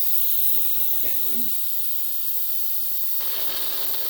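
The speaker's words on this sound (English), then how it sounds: "that's how you'll know that all the steam has been released and it's safe to open." Pampered Chef Quick Cooker pressure cooker venting steam in a steady, sustained hiss that continues throughout, joined by brief faint voice-like sounds early on and growing somewhat louder near the end.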